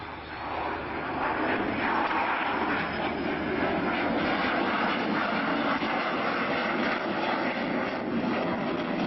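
An English Electric Canberra reconnaissance jet at a Royal Air Force airshow drones loudly and steadily overhead, a broad continuous engine roar that swells slightly and holds for the whole stretch.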